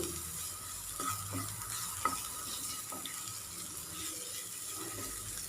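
Turmeric powder being sautéed in a pan in oil for an okra stir-fry, a steady soft sizzle with occasional scraping stirs of a spatula, close and moderately loud throughout.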